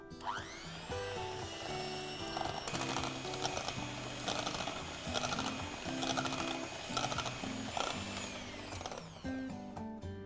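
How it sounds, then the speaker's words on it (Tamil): Electric whisk beating butter and sugar for eggless chocolate chip muffin batter, a steady close motor whine with pitch wavering as the beaters work through the mix, stopping near the end. "இதெல்லாம் வந்து நம்ம வந்து விப்பரால் பண்ண போகிறோம்."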